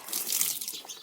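Water poured from a vessel onto an aloe vera plant growing in a village, a steady close splashing and trickling, brief and fairly loud, with no talk.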